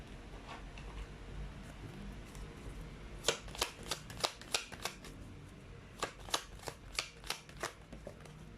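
Tarot cards are shuffled in two quick bursts of crisp riffling snaps, about a dozen clicks in each run, close and fairly quiet over a steady room hiss.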